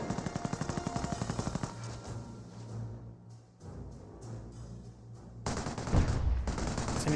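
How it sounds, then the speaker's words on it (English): A Vickers machine gun in Company of Heroes fires a steady rhythmic burst of about a dozen evenly spaced shots, loud and close, then battle noise continues with more heavy firing later. "Vickers replacement fires a couple shots"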